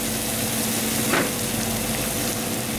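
Pasta tossed in a hot pan with pesto makes a steady, close frying sizzle throughout, with one short scraping swish from the toss midway.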